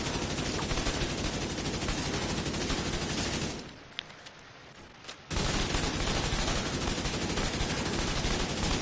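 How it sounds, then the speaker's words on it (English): Sustained automatic assault rifle fire in the video game The Division 2 rattles loud and continuous, breaks off for about a second and a half of near-quiet with a couple of clicks, then resumes at full intensity. "but now I'm using my assault rifle"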